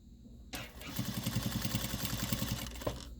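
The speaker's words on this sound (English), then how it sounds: "start sewing." A sewing machine stitches fabric along a quarter-inch seam, starting abruptly and running in a fast, even rhythmic hum of needle strokes for a couple of seconds before easing off, heard up close with no talking.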